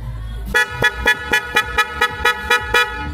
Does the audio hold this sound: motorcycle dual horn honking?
yes